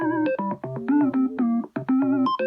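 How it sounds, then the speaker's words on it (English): Arpeggiated notes from a Yamaha DSR500 FM synth driven over MIDI, a quick run of bright tonal notes jumping between low and high pitches, steady and close with short gaps, no voices. "This arpeggio comes from a much later Yamaha keyboard and it sounds like this."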